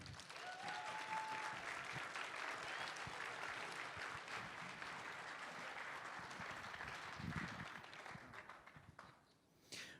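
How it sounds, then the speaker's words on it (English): An audience applauds convention volunteers at a closing ceremony, a loud sustained round of clapping that thins and fades toward the end. "Please give them another round of applause."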